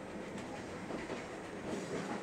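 A train runs on the Soya Line in Hokkaido between Asahikawa and Wakkanai, giving a steady, close rumble with faint clickety-clack of the wheels throughout.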